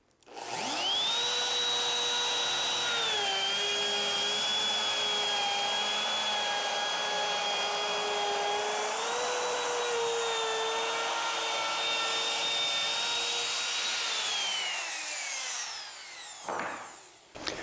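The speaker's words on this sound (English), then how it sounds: "I'm able to start the router on the outside of the fixture and move it in." Handheld router whining at a steady high pitch as it cuts a stopped dado in sheet goods guided by a jig, holding nearly constant for about fifteen seconds before spinning down near the end.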